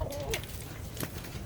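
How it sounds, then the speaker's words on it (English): Farm chickens heard close by as they are let out, with short clucks and soft cooing calls over a constant rustling background. "what I'm gonna do today is let the chickens out."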